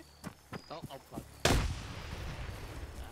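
In a military shooter game, a flashbang grenade goes off in a single loud, close blast with a rumbling, noisy decay, preceded by a few seconds of someone talking.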